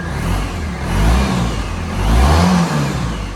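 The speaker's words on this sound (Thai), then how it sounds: "เครื่องยนต์สตาร์ททีเดียวติด นิ่งเงียบนะครับ" Cold 2019 Suzuki Burgman 650 ABS scooter engine running close by with a steady, smooth hum that swells gently with light revs, with no talking.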